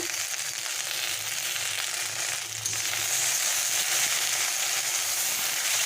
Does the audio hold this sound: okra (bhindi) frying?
yes